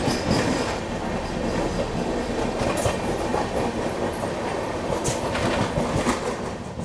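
Gomti Express, running from Lucknow to Delhi, approaching slowly under caution, a loud, continuous rumble and rattle of rail cars with clacking wheels and occasional squeals, close and steady throughout.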